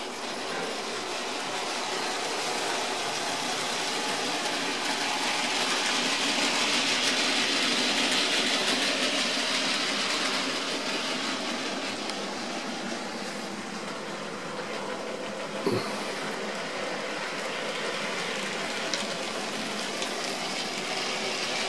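A train with a coal tender runs with a steady, close rumbling roar that holds for the whole stretch, with one brief knock partway through.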